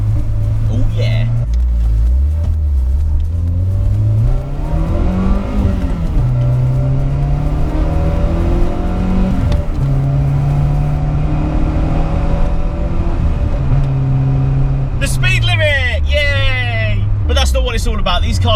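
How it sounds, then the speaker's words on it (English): A Peugeot 106 Quiksilver engine revs and blips repeatedly, its pitch rising and falling in close surges, with a sharper burst of revving near the end; someone talks over it throughout. "you can blip these 106s very well, so third gear will drop into second."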